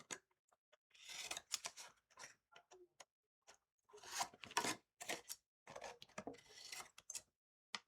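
Scissors snip paper to miter the corners of a paper pocket pack, making a series of crisp, close cuts in irregular bursts with short quiet gaps between them.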